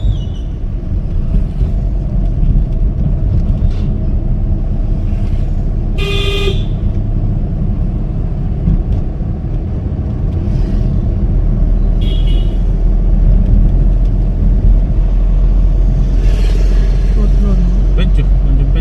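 A car driving in gear while speeding up produces a loud, steady engine and road rumble, with a short horn toot partway through and a few fainter honks later; people talk throughout.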